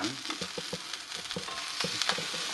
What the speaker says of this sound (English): I'm going to add about that much butter to the pan.